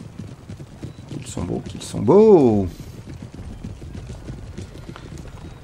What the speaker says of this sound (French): La cavalerie française pointe le bout de son nez, et ce sont les chevaux lanciers